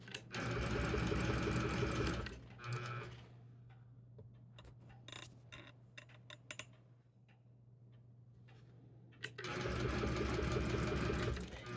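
A domestic sewing machine stitching bulky quilt fabric on a hand-pieced Dresden Plate quilt, running loud and fast in two long bursts with a quieter pause of fabric handling and light clicks between them.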